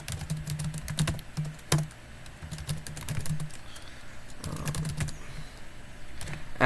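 Computer keyboard keys tapped in irregular bursts while code is typed, close and fairly steady with short pauses, no talking.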